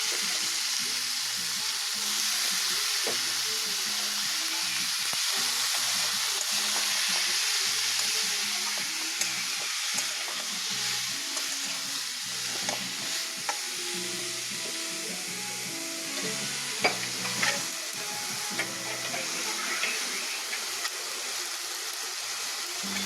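Washed masoor dal frying with spices in a pan, a steady broad sizzle with scattered stirring scrapes and clicks, close and fairly loud throughout, no talking.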